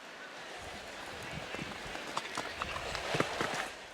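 Horse hooves canter across soft ground during a show-jumping class, a quick irregular thudding rhythm rising in loudness as the horse nears, over a faint background hiss.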